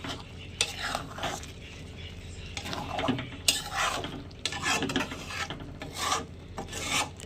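Bombay duck (loitta) fish cooks in a pan while a utensil scrapes and stirs it in repeated, uneven rasping strokes, close and moderately loud, with a faint sizzle underneath.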